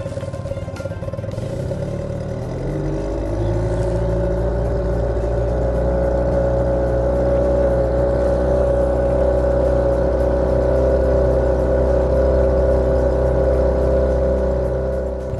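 A Yamaha outboard boat motor runs steadily at about half throttle, around 3,000 RPM, during break-in, a loud continuous droning hum that rises slightly at the start and then holds even throughout.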